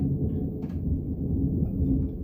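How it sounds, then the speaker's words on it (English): Low, steady rumble of thunder from a lightning storm rolls on without a break, heavy and booming enough to shake a house, with no voices over it. "Thunder, lightning. Yes, booming. shaking my house."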